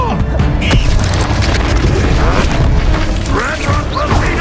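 In the Hogwarts Legacy video game, a Confringo fire spell bursts amid the clamor of a magical battle, with heavy booms, crashing impacts and whooshing effects layered over a constant loud din, and voices shouting over the fighting.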